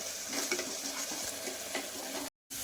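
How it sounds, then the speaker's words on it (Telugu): Tomato paste being stirred and cooked in a pan for tomato rice pongal gives a steady close sizzle with soft scraping strokes throughout, then a brief drop to silence near the end. "ఇప్పుడు మనం బాగా కలుపుకొని ఇప్పుడు బాగా టమాటా పచ్చివాసన పోయేంత వరకు కుక్ చేసేసుకుందాం"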